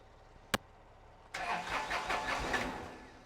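A Kubota F2650 tractor engine that has sat unused for five years starts with a sharp click, then cranks and catches into a rough, close, uneven run, with no talk.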